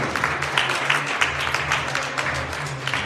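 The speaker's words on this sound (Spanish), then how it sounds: "También un aplauso." A church congregation applauds steadily for about three seconds, a dense wash of many hands clapping at moderate distance with a low hum beneath.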